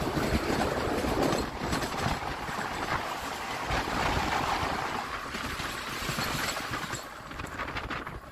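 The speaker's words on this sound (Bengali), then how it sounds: "12129 পুনে হাওড়া আজাদ হিন্দ এক্সপ্রেস।" The 12129 Pune–Howrah Azad Hind Express thunders past, a loud continuous roar of rolling wheels and clattering coaches close by, with rhythmic rail clicks and some squealing throughout.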